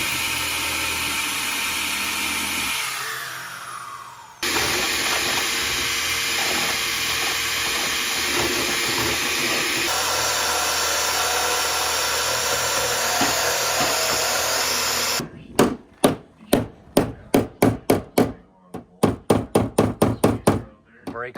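Power grinding on the rusty undercarriage of a Mustang during restoration: a loud, steady abrasive whine runs for about ten seconds, then stops and gives way to a string of sharp, evenly spaced knocks or taps.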